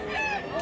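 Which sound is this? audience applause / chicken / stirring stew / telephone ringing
chicken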